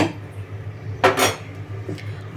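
A spoon scraping and clinking against a bowl while hot oil is mixed into gram flour for boondi, a few close metallic strokes with one louder scrape midway over quiet background.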